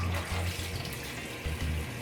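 Raw chicken being washed under running tap water in a sink for Jamaican curry chicken, a steady close splashing stream that briefly surges and gurgles, with no talk.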